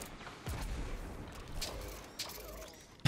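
Gunfire in a Destiny PvP match: a burst of shots near the start, then scattered single shots and an impact at the end, over steady game ambience.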